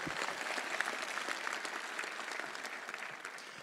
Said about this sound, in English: Let's give a round of applause just for our sponsors.